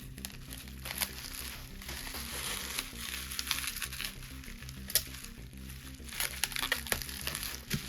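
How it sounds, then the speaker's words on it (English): Bubble wrap and tape being folded and rolled around DVDs for shipping, soft crinkling and crackling plastic with scattered taps and rustles, close and fairly quiet, no talking. "kind of fold roll up these edges and tape them"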